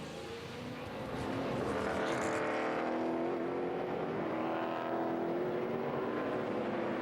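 A NASCAR Nationwide Series race car accelerates away from a pit stop after a four-tire and fuel service at a Road America road-course race, its engine note rising steadily and loud with crowd and track noise around it.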